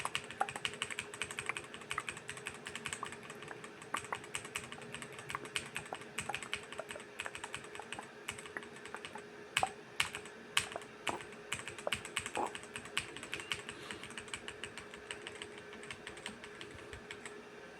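Steady typing on a computer keyboard, a close, continuous patter of quick clicky keystrokes with a few sharper, louder presses, no voices.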